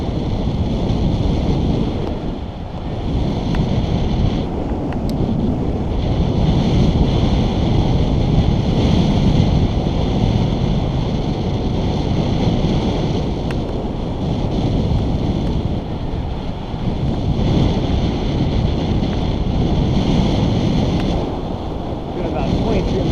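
Steady, heavy wind roars and buffets across the microphone of a commuter cyclist riding at about 23 miles an hour, a constant low rumble that swells and eases slightly with no break.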